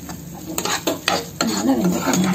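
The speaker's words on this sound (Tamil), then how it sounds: "நல்லா வெங்காயம் வதங்கி வச்சு பாருங்க." Onions sautéing in a pan for a Tamil okra tamarind masala, with a soft steady sizzle broken by several sharp scrapes and clinks of a spoon stirring against the metal pan, close by and without talk.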